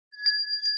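A single bell rings out clearly as a treat on a weather show, two steady tones sustaining for most of a second before a sharp strike at the end, with no talk over it.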